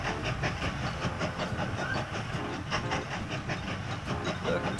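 Train rolling on rails in the Mashinky game, a steady rhythmic clatter of wheels with hissing steam, running continuously.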